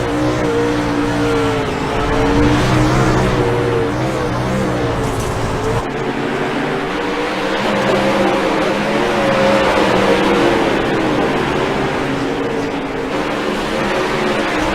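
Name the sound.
race cars on a dirt track, one flipping upside down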